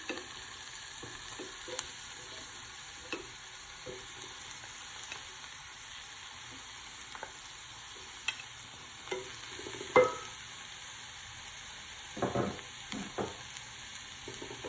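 Chopped bean patty pieces frying in a small pan, a faint steady sizzle with occasional quiet scrapes and stirring clicks, no talking.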